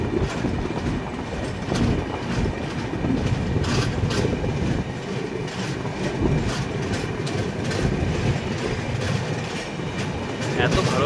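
Passenger train on the Mumbai to Pune hill route, pushed by a second engine at the rear, rolls steadily with close, continuous rumble and clickety-clack of wheels over rail joints, loud throughout.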